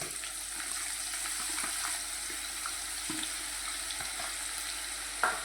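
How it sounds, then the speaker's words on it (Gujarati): Chopped onion sizzles in hot oil in a pan while a green chickpea curry is cooked, a constant close hiss with faint stirring scrapes and a brief clink near the end, and nobody speaks. "હવે આપણે ડુંગળી નાખી દો."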